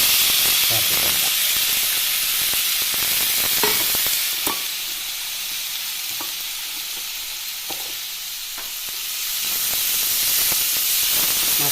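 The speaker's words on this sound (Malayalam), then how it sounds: "ഇതിലേക്ക് നമുക്ക് മത്തൻ ചേർത്ത് കൊടുക്കാം" Chopped pumpkin, washed with turmeric, sizzles steadily in a hot pan for a Kerala thoran, a loud continuous frying hiss with occasional stirring clicks, easing slightly mid-way then rising again.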